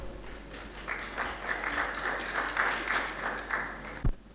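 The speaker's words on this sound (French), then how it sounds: "Madame Haïta Sylla, sous vos applaudissements." A conference audience at a regional closing session applauds, with dense overlapping hand claps at moderate volume for about four seconds before stopping abruptly.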